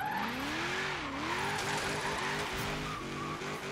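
A Mustang drifting sideways in Forza Horizon 3, with a loud continuous tire squeal that bends in pitch over a steady engine drone, close and without talk.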